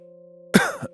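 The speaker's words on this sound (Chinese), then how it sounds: "我咳嗽2声，以缓解我发凉的脊背。" A short throat-clearing cough in two quick bursts, a strong one followed by a softer one, rising suddenly out of a quiet steady tone and then fading.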